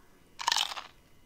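A single crunchy bite and chew of food in the VR game Job Simulator, a sharp, close, crackling burst lasting about half a second.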